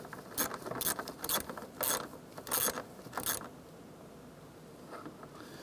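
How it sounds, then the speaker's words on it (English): Ratchet clicking in short bursts while a bolt is snugged down on the front strut assembly of a 2004-2008 Acura TL, several quick runs of close metallic ticks that fade toward the end. "Let's go ahead and snug down this bolt here."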